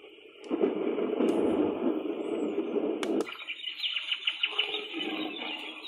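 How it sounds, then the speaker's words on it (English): Rainforest sleep sound from a Sharp alarm clock, with cooing and chirping birds over a soft ambient bed; the bird calls come in bursts, and brighter tweets follow after about three seconds. "Rainforest."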